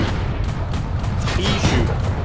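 Tank cannon fire in World of Tanks, dense low rumbling booms and battle noise running without a break, with a voice talking over it.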